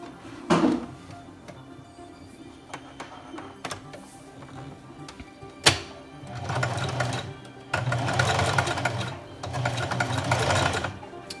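A home sewing machine stitches a zigzag through layers of a newborn onesie, running in several bursts of rapid mechanical whirring, separated by quieter pauses with handling clicks, close and fairly loud.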